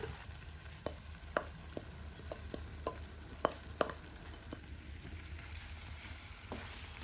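Marinated mutton sizzles in ghee in a pan: a faint, steady frying hiss broken by scattered sharp pops and clicks, with no voices.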